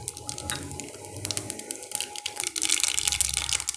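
Mustard seeds go into hot oil in a cooking pan for an anchovy dry fish thokku, setting off a close, crackling sizzle with sharp pops that thicken toward the end.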